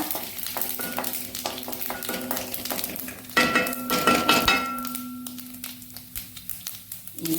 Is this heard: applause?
no